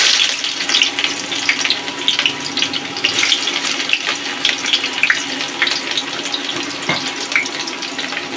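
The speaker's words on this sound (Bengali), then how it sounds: "তেল গরম হয়ে এসেছে, এখন আমি কেটে রাখা পেঁয়াজগুলো দিয়ে দেবো।" Chopped onions, three or four medium ones, go into hot oil for a Bengali chicken curry, giving a steady, close sizzle with scattered crackles and no talking.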